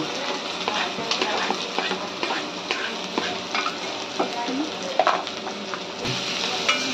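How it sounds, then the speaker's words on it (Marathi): Onions frying in hot oil with curry leaves for a sandge vegetable curry, giving a steady dense sizzle broken by frequent scraping and clinking of a stirring spoon in the pan, close and continuous. "आता कांदा भाजून घेऊन चांगला लाल होईपर्यंत."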